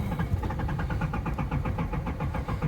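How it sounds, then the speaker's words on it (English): A 1984 Nissan 300ZX Turbo engine briefly catches and runs roughly, a rapid pulsing chug close by that holds unsteadily for a few seconds. "Funny how it'll start back up for a second."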